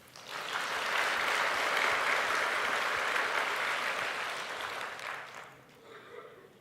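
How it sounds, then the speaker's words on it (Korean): Congregation in a church service claps together in sustained, dense applause for several seconds, then the clapping thins and fades out near the end. "성삼위 하나님 아버지께 우리 감사 박수 한번 합니다"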